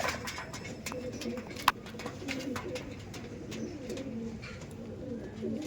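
Andhra pigeons cooing in low, soft murmurs at a loft, several birds overlapping continuously, with occasional clicks and rustles and faint background noise.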